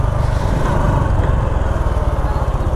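A Honda RS 125 FI motorcycle runs with a loud, steady, pulsing engine drone heard close by while riding, with no speech over it.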